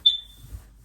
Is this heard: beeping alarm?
yes